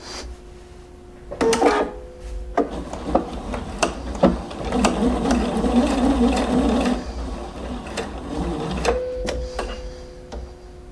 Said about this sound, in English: I'm going to stitch on the lines that I made on the in the previous step